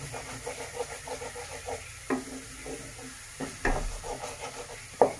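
Onions frying in a pan for Bhola fish curry, a steady low sizzle with intermittent stirring scrapes and a few sharper knocks of the spoon against the pan.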